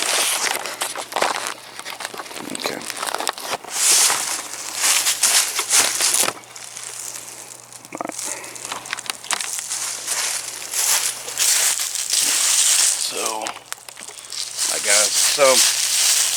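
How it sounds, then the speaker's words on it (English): A sapling is cut down in the woods for a survival spear, making repeated crunching, crackling and snapping of wood and brush, close by and fairly loud, while someone talks through much of it. "So I'm gonna go cut it down right fast,"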